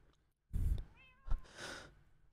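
Cat in the Minecraft video game giving a couple of short meows, with a brief bright bleep between, close and fairly quiet against a quiet game background.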